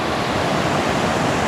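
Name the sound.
waterfall by a river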